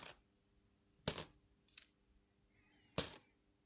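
Several 5-cent coins clink as they are handled and dropped during a mixed coin search, four short sharp metallic hits spaced apart, fairly close and clear with silence between.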